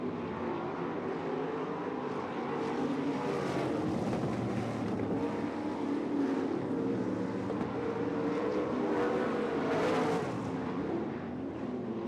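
Dirt track race cars roar around an oval at a Dirt Devil Grand Nationals event, a steady dense engine drone sustained throughout with a swell near the end, no talk over it.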